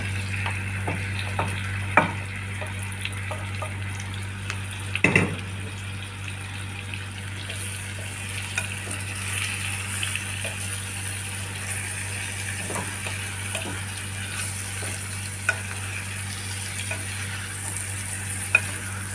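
Fish sizzling and frying in a pan for Sri Lankan devilled fish, a steady loud crackle with occasional clinks and scrapes of stirring, no talking.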